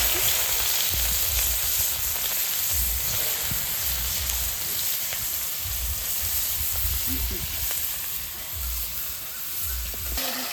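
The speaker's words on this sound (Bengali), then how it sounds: "তেল গরম হয়ে গেছে তেলের উপরে গাজরগুলো দিয়ে" Carrots frying in hot oil in a kadai for fried rice, a steady bright sizzle running throughout with low rumbling thumps underneath.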